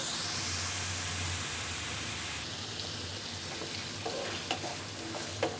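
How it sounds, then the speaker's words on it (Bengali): Spice masala for mutton curry fried and stirred in oil, a loud hissing sizzle that settles lower partway through, with occasional spoon scrapes near the end. "এখন মশলাটা ভালো করে কষে নেব।"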